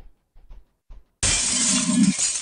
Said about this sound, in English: Stained glass window shattered